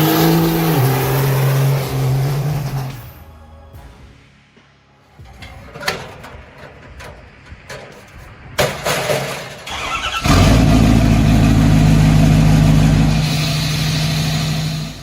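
A 12V Cummins engine revving hard at 5,000 RPM, loud and near: a strained high rev that cuts out, a quieter stretch of rattles and sputters, then a sudden roaring surge that holds steady to the end.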